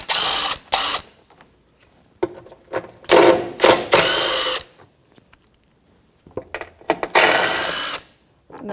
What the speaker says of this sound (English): I'm going to take the rear mounting bolts off first, 10mm socket.